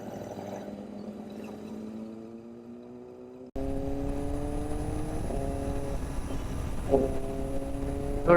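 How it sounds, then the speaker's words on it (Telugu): A Kawasaki ZX-10R superbike with an Arrow full-system exhaust drones steadily and climbs in pitch, with a couple of brief shifts in tone partway through, heard at moderate distance with no talking. "చాలా లౌడ్ ఉంది బైక్ అయితే. ఫుల్ సిస్టమ్ ఆరో ఎగ్జాస్ట్ ఉంది దానికి"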